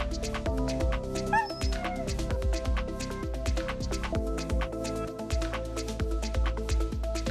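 Eskimo Dog yips and whines, brief high cries mixed into loud, continuous music with a steady beat underneath.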